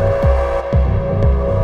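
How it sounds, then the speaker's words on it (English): A dub techno track plays a sustained synth drone pad, loud and steady, with a deep thudding kick pulsing about twice a second beneath the held tone. "now I'm just chucking in a drone, which I'm going to make the length of the bar and just stick it like sort of a pad"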